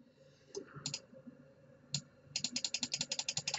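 Computer mouse clicks during SketchUp modeling work: a few scattered single clicks, then a quick, evenly spaced run of sharp, close clicks near the end.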